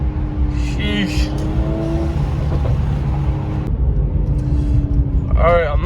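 A 2020 Mercedes-AMG C43 with a performance exhaust drones steadily from inside the cabin as it accelerates through the gears, with a few brief upshift pops and people talking over the engine.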